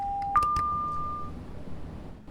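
A steady electronic train AWS alarm tone in a video game holds, then steps slightly higher and sounds for about a second before cutting off, over a low mechanical hum.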